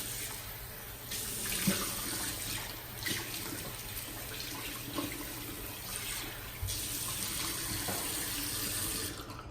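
Cold tap water runs steadily into a sink while a razor and face are rinsed during a shave, making a continuous close splashing hiss with small shifts as hands and blade move under the stream.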